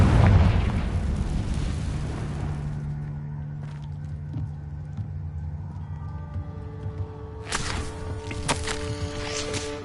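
A Confringo fire spell bursts in Hogwarts Legacy, a loud deep boom that rumbles and slowly fades under game music, followed by a few smaller impact sounds.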